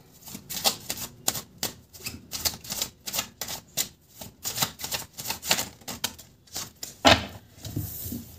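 Tarot cards are shuffled and drawn, giving a rapid series of close, crisp snapping and flicking clicks in an uneven rhythm, with one sharper slap near the end.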